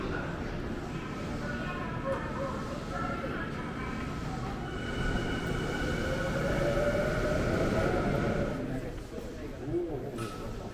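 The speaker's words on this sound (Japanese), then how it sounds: "おそらくこちらの電車が始発電車だと思われます。" A Tokyu Shin-Yokohama Line first train at Hiyoshi station, heard as a steady rumble with rising and falling whine and hum as it moves along the platform, continuous and fairly loud, with people talking over it.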